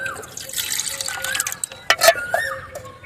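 Stale-rice soaking water is poured into a mixture of liquid fertilizer for a rooftop garden, giving a close splashing, trickling flow with a burst of louder splashes near the end, alone without talk.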